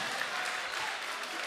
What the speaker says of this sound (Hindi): तालियां बजाते रहिए जब तक निजाम ना आए